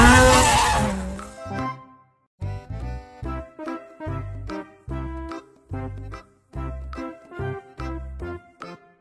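A toy race car plays its electronic engine sound effect in a series of short, loud, evenly spaced bursts after a brief opening tone, close by with no talking.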